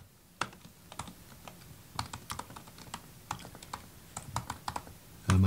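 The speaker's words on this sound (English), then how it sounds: "And then you type in your email there." Keys clack on a computer keyboard as an email address is typed in, a quick irregular run of close, crisp taps heard alone.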